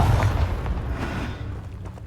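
A Confringo fire spell explodes in the Hogwarts Legacy video game: a deep, loud boom that rumbles low and slowly fades away over about two seconds, with no voices.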